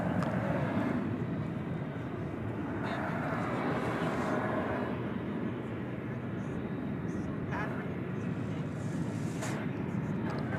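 Jet airliner engine roar at DFW airport at night, a steady broadband rumble that holds loud and continuous throughout, with no break in its wash.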